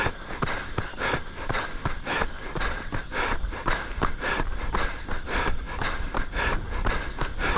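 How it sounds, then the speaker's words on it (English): Heavy, rhythmic panting breaths of a runner going uphill with steady footfalls, close to the microphone, repeating quickly and continuously without any talking. "you'll be able to hear in my breathing if I stop talking for a few seconds"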